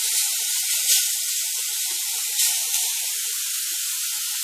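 Beetroot cooking in a frying pan gives off a steady, close hiss of steam and sizzle, with a couple of brief swells in intensity.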